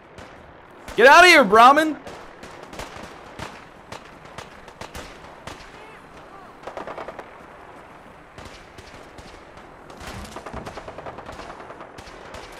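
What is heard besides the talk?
gunfire battle in Fallout 4 video game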